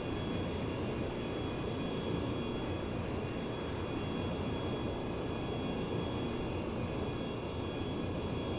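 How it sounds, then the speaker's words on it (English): In the flight simulator IL-2 1946, an F/A-18 jet's engine drones as it lines up for a carrier landing. The roar is steady and broadband, with no talk over it. "The aircraft is making noises."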